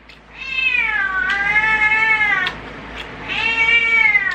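Two long, drawn-out cat meows, loud and close, the second following a short pause, with no talking.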